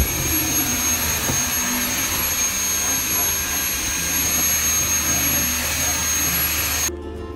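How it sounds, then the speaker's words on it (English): A vacuum cleaner sucks dirt and sand off a shoe shelf, running as a loud, steady whine at close range before cutting off abruptly near the end. "So I am vacuuming this area so to get all the dirt and sand out of here."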